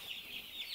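Broiler chickens in a chicken house, some with aspergillosis, give faint, distant clucks in a soft repeating rhythm over a quiet background, with no one speaking.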